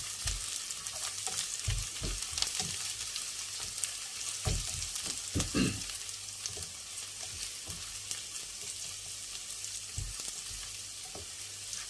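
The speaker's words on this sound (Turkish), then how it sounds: "Güzelce kavurduk." Eggs sautéing for menemen in a pan, a continuous soft sizzle and crackle with occasional scraping stirs and light clinks against the pan.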